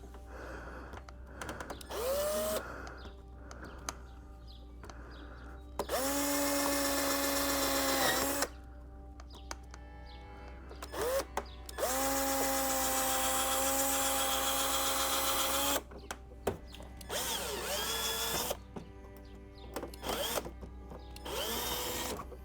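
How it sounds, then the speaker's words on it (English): Power drill whirring in bursts during battery and USB port installation on a Honda GL1500 Goldwing motorcycle, with several short pulses and two longer sustained runs separated by quiet pauses, close and loud. "Let's drill just a little bit further."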